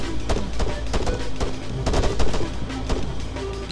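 Rapid, loud video game gunfire from Wasteland, a dense run of close shots and bursts that continues throughout with no talk over it.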